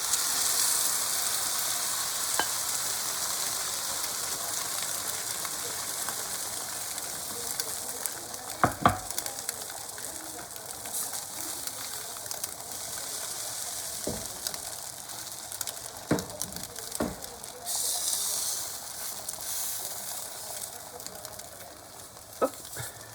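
Beaten eggs for an asparagus and mushroom omelette fry in a pan with a steady, moderate sizzle, broken by a few sharp utensil clicks and taps, while a pigeon coos faintly in the background.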